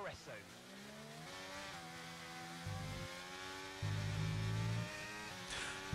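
In the F1 23 racing game an Alpine car slides through a corner, its engine note falling and rising with a brief tyre squeal, fairly faint, with low rumbling patches and a sharp burst at the end.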